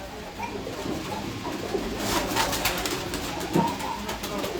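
Golden pigeons cooing softly in a loft, low murmuring calls over a steady background hiss, with a brief louder coo near the end.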